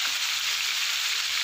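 Shrimp coated in Sajiku flour batter fry in hot oil, giving a steady, close, even sizzle with no talking.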